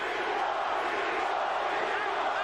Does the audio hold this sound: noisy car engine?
no